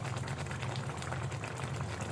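Raw mustard oil poured into a simmering fish curry: a faint, steady bubbling and liquid sizzle, quiet and continuous with no talking.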